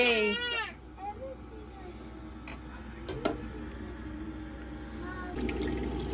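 An infant cries loudly for a moment at the very start inside a camper van, then falls quiet. Softer trickling and faucet-like water sounds follow, with occasional small knocks.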